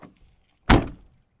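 The door of an old, rusty Jeep Wrangler slams shut once, a single solid thunk after near-silence, close to the microphone.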